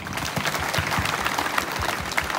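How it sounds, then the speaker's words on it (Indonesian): A crowd at a flag ceremony for Indonesian Independence Day claps together, a dense, steady burst of applause with no speech. "Nah, tepuk tangan dulu."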